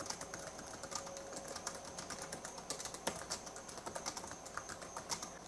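Typing on the keyboard of a 2012 MacBook Pro 13-inch laptop, a steady, close patter of soft key clicks with a few louder taps, heard alone with no talking.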